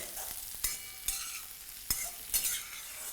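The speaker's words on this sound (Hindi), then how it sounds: "प्याज को अब ब्राउन करना है आलू के साथ" Potatoes and lightly sweated onions browning in a pan, a soft continuous sizzle punctuated by four sharp scrapes of a spatula stirring at uneven intervals.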